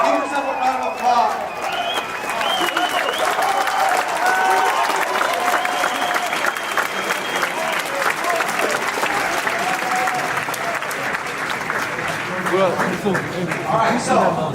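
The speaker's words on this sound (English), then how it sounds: "Give yourself a round of applause." An audience at a mindset seminar in Germany gives itself a long round of applause, steady dense clapping mixed with cheers and shouts, loud and continuous throughout.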